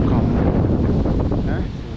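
Steady, loud wind buffets the microphone in a constant low roar throughout, with faint indistinct sounds beneath it.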